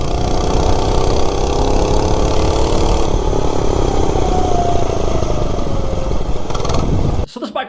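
An Oryxearth 105cc minibike engine running at speed, a loud, steady buzzing drone with rushing wind noise throughout, cutting off sharply at the very end.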